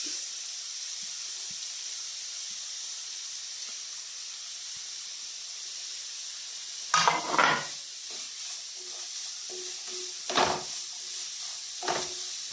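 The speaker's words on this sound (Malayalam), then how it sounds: "അതേ നെയ്യിലേക്ക് തന്നെ ഇട്ട് നമുക്ക് ക്യാരറ്റോടെ ഒന്ന് വഴറ്റിയെടുക്കാം." Grated carrot sautés in ghee for carrot payasam, a soft, steady sizzle hissing quietly throughout, broken by a few brief clinks and scrapes of stirring in the pan, with no talk.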